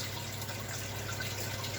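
Water trickling in an empty fish tank, a steady faint wash of running liquid with a low constant hum beneath, unchanging throughout.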